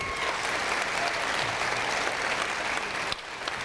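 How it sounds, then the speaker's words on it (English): A district academy audience gives Kyle a sustained round of applause, thick even clapping that fills the room and holds steady for a few seconds before dropping off abruptly near the end. "So please give Kyle another round of applause."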